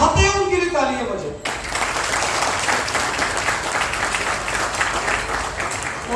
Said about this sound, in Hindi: तो जो लोग चाहते हैं उनके लिए तालियां बजे